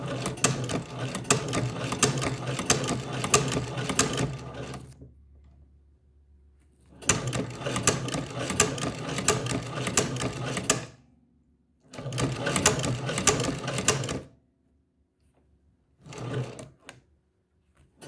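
A Chinese leather shoe-patcher sewing machine stitches a patch onto a leather motorcycle vest, its needle rattling in three long, loud, steady runs and a short final burst, with quiet pauses between.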